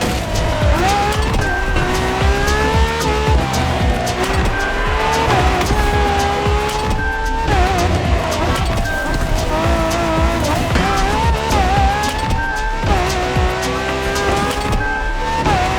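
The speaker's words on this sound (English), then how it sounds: "We have prepared a classic for you from a very famous German brand, the BMW Z4 M40i." A BMW Z4 M40i convertible roadster races in The Crew Motorfest, its engine note rising and falling steadily throughout with repeated tire squeals and skids, loud and continuous with no talk.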